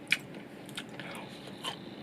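Someone bites into crispy, twice-fried asparagus tempura, producing a few faint, close crunches spaced apart against quiet background noise.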